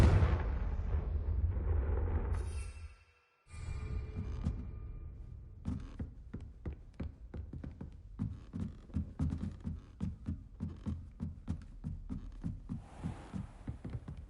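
A Confringo blasting curse erupts in Hogwarts Legacy as a loud, rumbling burst, cut by a brief silence, then followed by a rapid series of sharp, rhythmic impacts from the spell-fire and combat.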